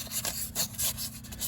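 Fine sandpaper rubbed by hand on a front wheel hub of an Infiniti M37/M56/Q70 to clear off dusting, giving repeated close raspy strokes in an uneven rhythm over a steady low hum.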